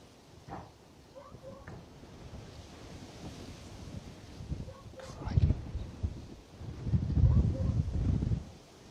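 Outdoor wind gusts buffet a camera microphone at Bristol Airport, giving low, uneven rumbling bursts that swell louder toward the end, with faint voices now and then.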